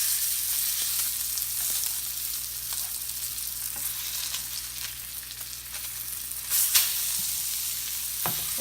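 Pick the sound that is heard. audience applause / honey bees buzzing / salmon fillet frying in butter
salmon fillet frying in butter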